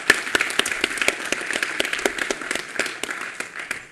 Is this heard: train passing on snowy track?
no